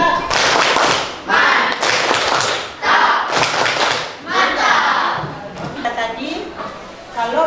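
A school class of seventh graders performs the tepuk mantap clapping routine, loud rhythmic bursts of group clapping in patterned beats, with the teacher's voice mixed in between the claps.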